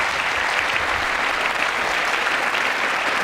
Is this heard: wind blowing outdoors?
no